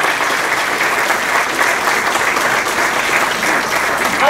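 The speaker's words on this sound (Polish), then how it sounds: "Ogromne brawa." A concert audience applauds after a song, a loud, dense, sustained round of clapping that fills the hall evenly throughout with no voices over it.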